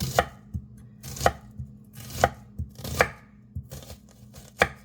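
Knife chopping half an onion on a board, about six firm, evenly spaced cuts with softer taps between, close and clear with no voices.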